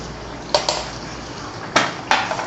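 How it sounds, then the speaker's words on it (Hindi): A spoon stirring chicken karahi with cream in a metal pan, four sharp scraping clinks spaced irregularly over a quiet background hiss. "इसको ज़रा सा भून लूँ, चला रही हूँ मिक्स हो जाए।"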